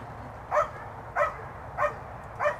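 A police K9 barks during a face-attack trial, four evenly spaced barks about half a second apart, moderately loud over a steady low background rumble.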